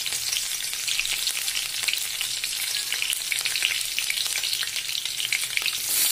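Chopped green chillies hit hot oil in a kadhai with bay leaves and crackle into a dense, steady sizzle. The frying hiss is loud and continuous, close up, with no voices.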